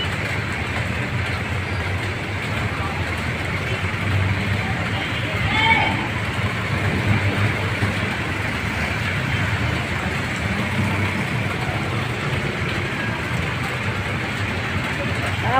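Steady road traffic rumbles past on a city street toward Tayuman during a typhoon, a continuous broad wash of engines and tyres on wet pavement with no clear breaks, with a voice speaking over it.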